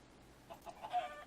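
A chicken in the Minecraft Better Than Wolves mod clucks a few times in quick succession, short soft game-sound clucks over a quiet background.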